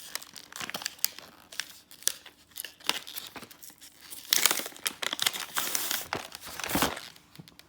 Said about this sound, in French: donc on va s'ouvrir ce petit kit de découverte